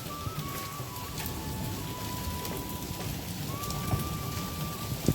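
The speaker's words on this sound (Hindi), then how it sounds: "बहुत ही तेज़ मूसलाधार बारिश जिसे कहते हैं वो अभी दोस्तों आ रही है।" Heavy torrential rain pounding a rooftop, a dense continuous hiss with scattered sharper drip impacts and a faint steady tone underneath, no voices.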